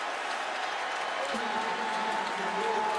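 Crowd applause at the 2011 BCS National Championship college football game between LSU and Alabama, a steady, moderately loud wash of clapping and cheering from a big stadium audience.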